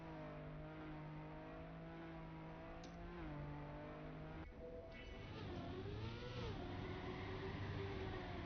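Snow car engine in the Trackmania racing game, a steady whirring drone that shifts pitch as it speeds up and slows through turns, loud and close with no talk.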